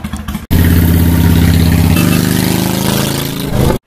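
A motorcycle engine runs loud and close, starting abruptly after a brief pause and holding a steady idle drone with a slight shift in pitch partway through.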